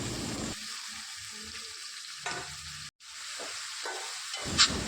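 Chicken curry masala mix sautéing in hot oil with mustard seeds: a steady, bright hissing sizzle throughout, with a brief dropout midway and a small clatter near the end.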